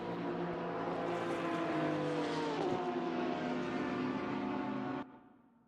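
GT race cars roar through qualifying in a racing video game, a loud, sustained engine drone with steady tonal whine and a slight pitch shift midway, cutting off abruptly near the end.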